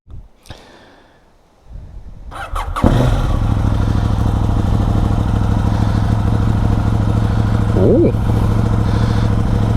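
KTM 790 Duke motorcycle fitted with a booster plug, a brief voice and rustle before the engine starts and settles into a loud, steady running drone that carries to the end.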